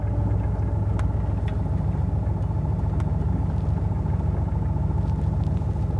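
A 1964 Cadillac's engine rumbles steadily from inside the cabin, a low, even drone with a few faint clicks over it.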